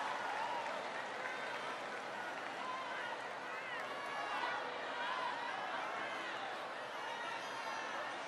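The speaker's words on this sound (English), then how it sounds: "Give him a big round of applause." A large crowd at a presidential speech on college affordability claps and murmurs in a steady, distant-sounding roar that carries on for several seconds, with chatter mixed into the applause.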